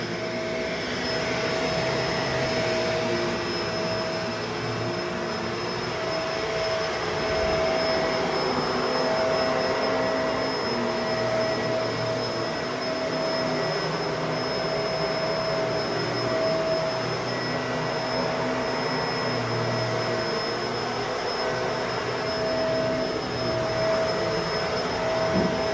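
A Bissell MultiClean Allergen Lift-Off Pet vacuum cleaner runs continuously indoors, a steady loud motor whine and airflow roar with a constant high-pitched tone that holds unchanged throughout.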